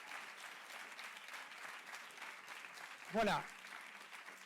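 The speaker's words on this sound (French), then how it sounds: "vos chaleureux applaudissements encore une fois pour Monsieur de Sutter, s'il vous plaît" Conference audience applauding speaker Olivier De Schutter, sustained clapping heard softly and somewhat distant, with a brief spoken word breaking through near the end.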